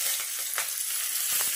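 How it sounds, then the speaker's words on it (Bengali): Five-spice seeds and bay leaf crackle in hot oil in a pan, a loud, steady sizzle with small pops and spits throughout. "তো তেলটা তো গরমই আছে, তো এটার মধ্যে 5 ফোড়ন দিয়ে দিলাম, আর দিয়ে দিলাম হচ্ছে তেজপাতা"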